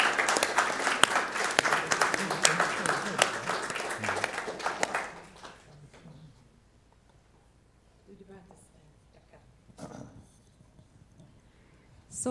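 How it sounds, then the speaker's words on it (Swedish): Audience at a Catholic study Bible launch giving a big round of applause, loud dense clapping for about five seconds that fades out, followed by quiet room sound and a few scattered noises. "Stor applåd!"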